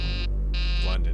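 Cartoon buzzer sound effect from a G.I. Joe episode, a steady harmonic electronic buzz in two bursts separated by a short gap, loud and close over a constant low hum.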